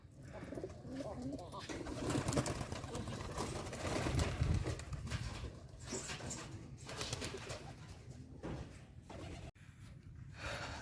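Pigeons at a raised wooden loft in a rural Bangladeshi char village coo softly and steadily under a broad outdoor wash of ambient noise. A voice talks faintly at times.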